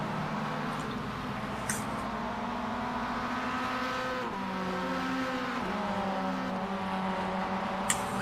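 ChampCar race car engines in an iRacing game round at Adelaide give a steady, buzzing drone whose pitch falls and climbs through gear changes and corners, with faint clicks.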